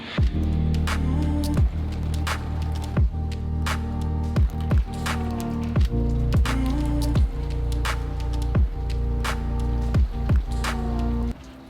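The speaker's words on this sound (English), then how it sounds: "I'm happy it's raining because of all the forest fires" Rain falls steadily outdoors, a constant wash of patter punctuated by sharp, regularly spaced drips or taps landing on a surface, close and fairly loud with no voices.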